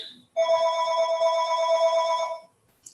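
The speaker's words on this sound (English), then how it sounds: "Definitely have to unplug that phone." A telephone rings loudly and close in a quiet chemistry lab, giving one steady, sustained electronic ring of about two seconds before it cuts off into silence.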